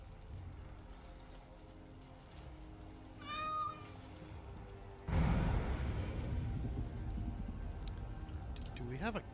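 A cat meows once in the game Dragon Age Origins: Awakening, a short rising-and-falling cry that sits amid game ambience, followed by a louder burst of rushing, watery noise.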